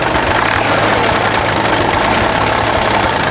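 A Hino P11C truck diesel engine runs at a steady, loud, close rumble throughout, with an even idle and no clear rise in revs; no one speaks.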